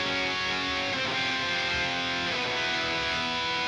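Electric guitar played through a Line 6 Helix with a harmonizer and delay, giving a dense, steady wash of sustained harmonized notes with no gaps and no talking.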